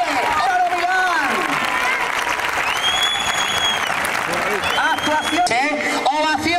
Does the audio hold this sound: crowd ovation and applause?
yes